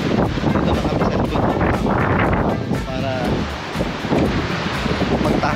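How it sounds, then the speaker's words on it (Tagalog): Strong wind gusts roar and buffet against the microphone, with rain and crashing surf mixed into the steady noise. "Ang lakas ng hangin at medyo umuulan."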